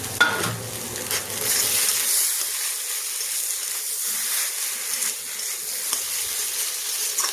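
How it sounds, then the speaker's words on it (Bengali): Mashed potato filling for aloo paratha fries in a pan, a steady close sizzle with stirring scrapes early on, continuing evenly without any talk. "খুব ভালোভাবে ভাজা বন্ধ করে দিলাম"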